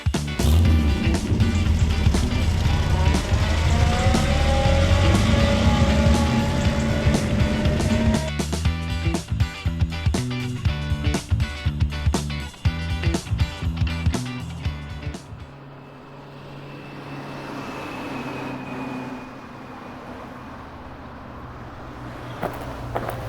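A Morris Minor car drives along a road with a loud engine drone and rising gear whine, then a stretch of rapid rattling clicks before fading into quieter road noise and distant traffic.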